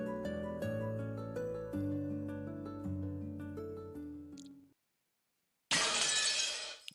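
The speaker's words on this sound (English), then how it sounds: "Glass break." Glass shattering sound effect in the Umineko When They Cry video game, a sudden loud crash of breaking glass that comes right after a music passage ends and a brief silence, then tails off into tinkling shards.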